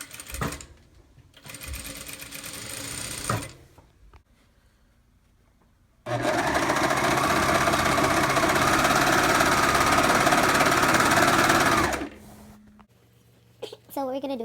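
A sewing machine stitching woven fabric runs in a steady, continuous whir for about six seconds, preceded by shorter bursts of stitching and quiet handling; a voice talks around it.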